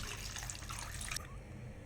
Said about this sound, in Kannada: ಅಳತೆಗೆ ತಕ್ಕನಷ್ಟು ಸ್ವಲ್ಪ ನೀರು.